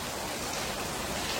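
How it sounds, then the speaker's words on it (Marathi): Steady rain falling, a dense even hiss with no gaps, heard alone without voices. "आणि पाऊस पण बघू शकतो."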